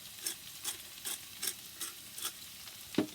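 A pan of chilli coconut crab with the chilli seeds left in and cracked black pepper frying and spitting, heard as a row of evenly spaced stirring scrapes over a faint sizzle, with no voices.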